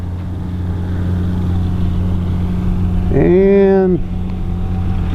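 X-Fly F-15 RC jet with twin 40mm electric ducted fans flying overhead, a steady whining drone with a brief rising and falling tonal sweep as it passes, under a man's speech.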